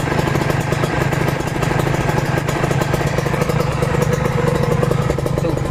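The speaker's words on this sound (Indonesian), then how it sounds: "kalian dengarkan suaranya. Halus kan, kayak motor 4 tak nih" Kawasaki Ninja two-stroke motorcycle engine running steadily during break-in, a loud, smooth, even idle with a continuous low hum and fine rapid clatter throughout, close by and alone.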